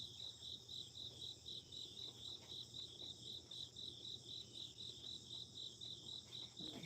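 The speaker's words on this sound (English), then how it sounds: "I hear a lot of crickets today." Crickets chirp at dawn in a steady, rapid pulsing trill that repeats without a break, quiet and distant over low background hum.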